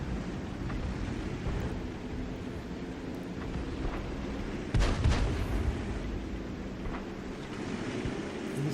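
An M44 self-propelled artillery piece fires in World of Tanks on the Murovanka map, a single loud muffled boom partway through, set against a steady wind and rumbling ambient bed.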